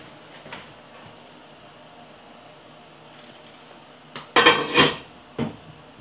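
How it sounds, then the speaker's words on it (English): Glass jars of spicy pickled cauliflower set into a canner make a couple of close clunks and clinks after a quiet stretch, followed by a final softer knock. "All right, so now we're gonna put this in our canner."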